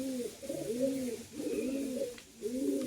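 A high flying pigeon coos up close in soft, throaty bursts, three rolling coo phrases separated by short pauses, alone with faint background hiss.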